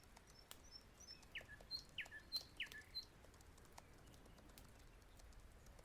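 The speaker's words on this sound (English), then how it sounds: "And it's morning, so the birds are waking up." Faint video game bird chirps and short calls at morning in a brief cluster, with a few soft flutters, over a quiet, steady ambient background.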